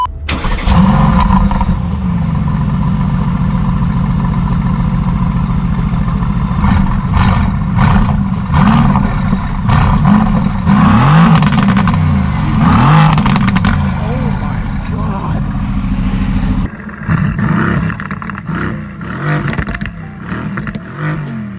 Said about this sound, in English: yo Ryan, do you want to do a startup and a rev for me?